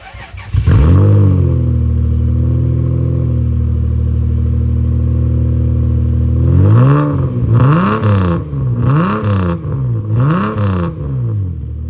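A Toyota Supra MK4 engine idles with a deep, throaty note through an HKS exhaust, then revs hard several times in rhythmic bursts, loud and close.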